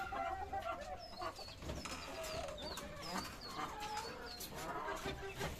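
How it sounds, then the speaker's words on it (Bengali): Desi chickens cluck and chirp continuously in a farmyard, several overlapping bird calls at a moderate distance, fairly quiet and busy, with no clear speech. "এই হচ্ছে আমার ফার্মি মুরগি, একটা মোরগ একটা মুরগি"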